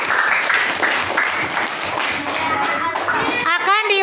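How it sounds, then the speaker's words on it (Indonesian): Pupils in a grade 8 classroom clap for group 2, a steady patter of applause mixed with children's chatter and a teacher's voice throughout. "Aplaus dulu untuk kelompok 2."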